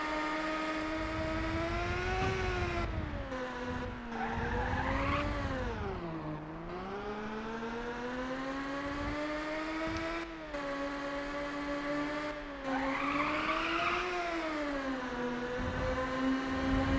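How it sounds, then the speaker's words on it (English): Race cars in the video game Ridge Racer Type 4, a continuous whining synthetic engine tone that rises and falls with gear shifts and speed, with brief skid squeals, loud and steady without talk. "Ridge Racer is known for their weird sounding and weird looking cars"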